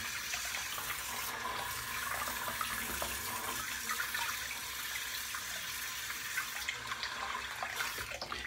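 Tap water runs steadily and close by to soak a large, bulky shaving brush in a sink, an unbroken broadband rush lasting the whole stretch with no voices over it.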